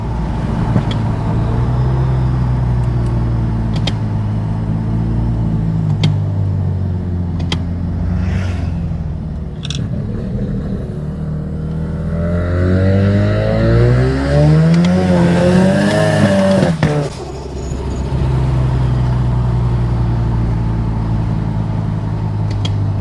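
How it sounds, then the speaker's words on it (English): Mazda RX-7 rotary with an automatic gearbox, untuned, revving up and holding at a rising whine before dropping back to a steady idle, loud and close throughout. "We've got an auto RX-7."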